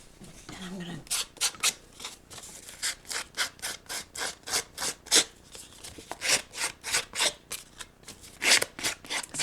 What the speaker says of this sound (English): I'm just kind of distressing the edges a little bit with my sander.